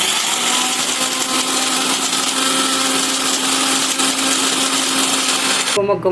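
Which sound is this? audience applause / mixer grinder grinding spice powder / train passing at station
mixer grinder grinding spice powder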